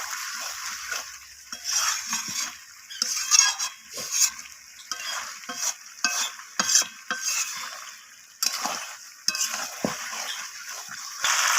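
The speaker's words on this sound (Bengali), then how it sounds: "তো চিনিটা দেওয়ার পর আমি আবারও সব কিছুর সাথে মিশিয়ে নেব অলরেডি এখানে তেল ছাড়তে শুরু করে দিয়েছে" A kohlrabi chicken curry is stirred in a pan after sugar is added, with oil separating. Repeated scraping strokes and clinks of a spoon against metal sound over a light sizzle, coming in bursts with short pauses and no voices.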